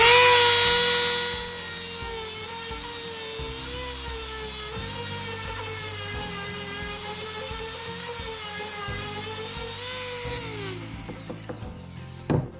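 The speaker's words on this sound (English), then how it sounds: "I've been sanding them out with a Dremel like this." A small Dremel rotary tool whines steadily at high speed, its pitch dipping slightly as it sands out holes in soft wood, then spinning down near the end.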